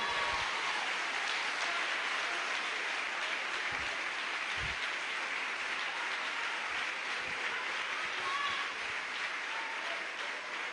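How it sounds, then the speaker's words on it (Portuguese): A church congregation applauds steadily during a Portuguese-language sermon, a dense, sustained wash of many hands clapping with no break for the whole stretch. "Aplauda o nome do Senhor aí, igreja."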